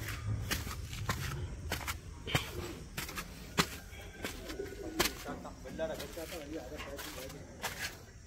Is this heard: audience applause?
no